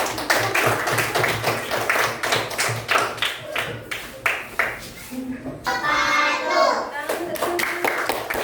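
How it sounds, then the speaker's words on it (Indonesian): Children in a classroom clap for their classmates, a run of distinct, fairly close hand claps with thumps and taps, then a brief burst of scattered applause before the clapping resumes. "tepuk tangan untuk teman-teman"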